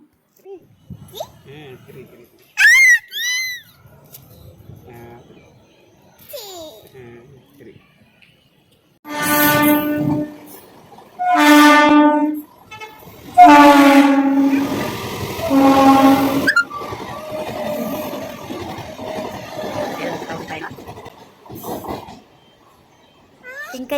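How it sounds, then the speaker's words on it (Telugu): A train at Sanathnagar railway station sounds a series of loud horn blasts in the middle of the stretch, with quieter rumbling before and after and a few brief sounds near the start. "ఇంటి దగ్గర నుంచి అయితే రైల్వే స్టేషన్కి వచ్చాము"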